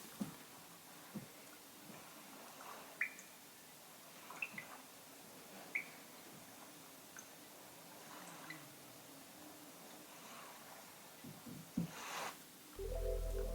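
Water drops falling in a cave: sparse, scattered single drips with faint echoing tails over a quiet hiss, spaced irregularly, ending with a brief louder burst.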